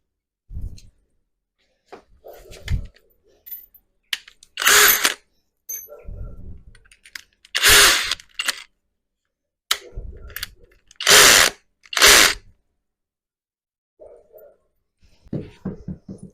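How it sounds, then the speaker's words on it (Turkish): A cordless screwdriver driving screws while terrace wall lights are mounted: short whirring bursts of the motor start and stop repeatedly at close range, with brief clicks and handling noise between them. "Evet şimdi iki tane vida bulalım ve onları sıkalım."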